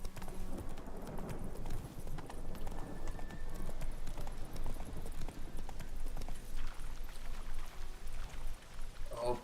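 Horse hooves galloping in The Witcher 3 video game, a fast, steady clip-clop rhythm running continuously at moderate volume, with a faint snort or whinny near the end.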